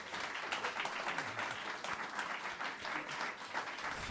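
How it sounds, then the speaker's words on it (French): Audience applause for Franz Marotte at a Dico Thuin improvised comedy show, a steady wash of many hands clapping, moderately loud and continuous, with faint voices mixed in. "Franz Marotte, veuillez l'applaudir."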